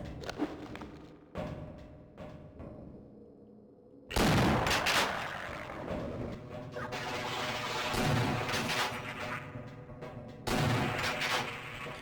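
Shotgun gunfire in Half-Life on PS2, loud booming blasts and crashing impacts in repeated bursts after a quieter start, dense and close with no talking.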